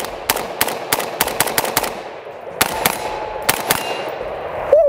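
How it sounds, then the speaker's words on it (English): Rapid bursts of gunfire from a Desert Tech Micron short rifle, loud sharp shots fired in quick strings with brief pauses between, close by and with no talking over them. "Y'all just witnessed a lot of rounds going down range"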